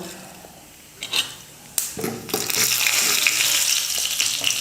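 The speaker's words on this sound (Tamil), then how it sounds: "எண்ணெய் காஞ்சிடுச்சு கடுகு சீரகம் கொஞ்சமாக" Hot oil crackles and sizzles loudly and steadily as mustard and cumin seeds splutter in it, after a couple of sharp clatters, with small pops spattering throughout.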